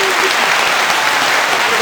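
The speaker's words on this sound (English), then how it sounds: "Round of applause." A podcast studio audience breaks into applause, a dense, continuous patter of clapping, loud and close throughout.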